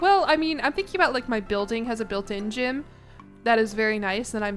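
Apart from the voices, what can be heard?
No distinct noise like a dog, phone or traffic.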